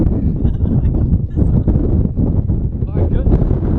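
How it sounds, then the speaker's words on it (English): Strong gusty wind buffets the microphone in a hot, flat desert, a loud constant roar with someone shouting over it. "Windy like crazy. Very windy."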